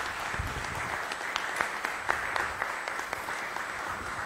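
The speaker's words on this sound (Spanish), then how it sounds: "Regalémosle un aplauso a nuestro expositor de esta mañana" Quiet, steady audience applause for a morning lecturer at an artificial-intelligence talk, many hands clapping evenly with a few sharper claps standing out.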